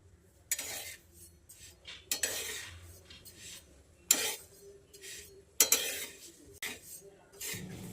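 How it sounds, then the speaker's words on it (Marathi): Sesame seeds dry-roast in a pan while a metal spoon stirs them, giving intermittent close scraping strokes and clinks against the pan with quiet gaps between, and no sizzle. "आपण तीळ भाजून घेऊयात"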